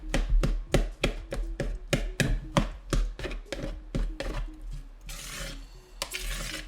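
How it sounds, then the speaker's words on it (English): A utensil chops avocado against the side of a bowl in a fast, even series of sharp knocks, about two per second, followed by a brief scraping, mashing rub near the end, close up and without talk. "Just chop, chop, chop on the bowl, on the side of the bowl. It'll go right through that avocado."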